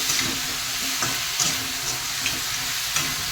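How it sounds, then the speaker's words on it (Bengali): Loitta fish sizzle steadily in a hot pan with oil and bitter gourd leaves, a continuous close frying hiss with occasional stirring scrapes and no talk. "এবার একটুখানি ফ্রাই করে দেবো ভালো করে"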